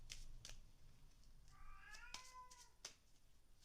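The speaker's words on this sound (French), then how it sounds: "Alors si vous entendez miauler" A cat meows briefly in a quiet room, a single drawn-out call with a faint second answer, amid soft card-shuffling taps and light handling noises.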